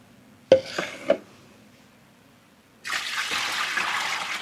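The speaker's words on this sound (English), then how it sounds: "And we're just adding the water." Water poured into a yarn-dyeing soaking tub holding a tablespoon of citric acid: a few knocks at first, then a steady rushing, splashing pour that runs on to the end.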